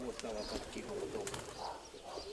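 Fantail pigeons in a flock flying loose and scattered over a yard in Donetsk region, giving soft repeated coos and wing flutter at close range, with a voice talking over them throughout.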